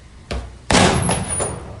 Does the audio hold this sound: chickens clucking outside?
no